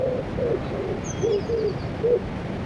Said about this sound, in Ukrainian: Голуб тут підспівує нам.